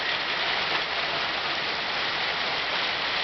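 Rain patters onto a rooftop in Kerikeri, New Zealand, a continuous close wash of droplets holding a constant loudness throughout, with no talking.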